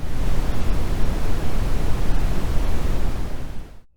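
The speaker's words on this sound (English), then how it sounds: "I also kind of liked was the brown noise" Brown noise: a dense, rumbling wash of low-heavy noise fills the clip continuously, deep and steady like distant surf, then fades out at the end.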